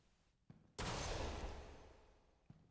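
A single loud gun blast in a video game, with a long roaring decay that fades over more than a second, framed by faint clicks before and after and no talking.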